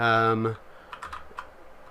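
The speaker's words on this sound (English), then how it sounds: "you can come over here and type in" A short burst of tones opens the moment, then a handful of light computer keyboard taps click out sparsely and softly.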